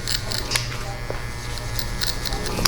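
Electric hair clippers fitted with a 1.5 guard fading a beard, a close, steady buzzing drone with small changes in pitch as the blades pass over the hair.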